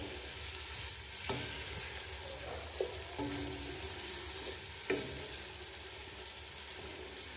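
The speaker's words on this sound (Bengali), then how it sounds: "সবজিগুলো এখন আমি একটু ভালো করে কষিয়ে নিব" Vegetables for a winter khichuri stir-fried with spices in a pan, a low steady sizzle under three distinct spatula scrapes spaced a second or two apart, quiet and close.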